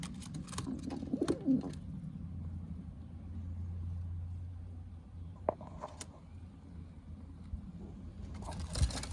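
Low, soft cooing of Janssen racing pigeons drones on in a quiet space, with a few faint clicks and rustles around it.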